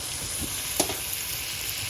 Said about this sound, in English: See, that's my rice boiling.